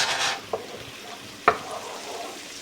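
Mushroom cream sauce for Marsala mushroom spinach pasta cooks at a gentle simmer in a pan over medium-high heat. A soft, steady bubbling hiss runs throughout, broken by two brief utensil taps.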